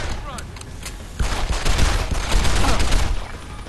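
Dense gunfire bursts in Deus Ex: Human Revolution, loud and continuous through the second half, with a player talking excitedly over the shooting.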